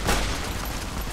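Gunfire from Fallout: New Vegas in a rapid burst of dull, muffled game shots, one stronger thump near the start and then a steady low rumble, fairly loud with no talk.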